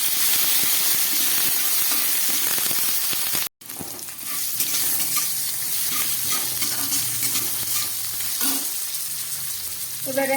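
Five-spice seeds, two or three green chillies and a little tomato fry loudly in hot oil, a dense continuous sizzle with stirring scrapes that drops out for a moment partway through.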